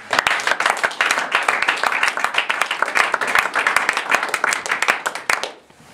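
A church congregation applauding for the Lord, dense and close crowd clapping that runs steadily for about five seconds and then stops abruptly.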